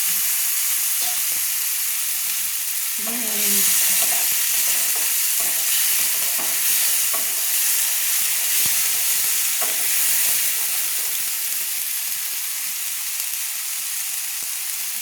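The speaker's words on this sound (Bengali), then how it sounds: "টমেটো যে কুচিয়ে রেখেছিলাম টমেটোগুলো দিয়ে দিচ্ছি" Chopped tomatoes added to cumin paste in a pan for a potato and pointed gourd curry fry with a steady bright sizzle, while a spatula stirs and scrapes with irregular knocks up close, no speech.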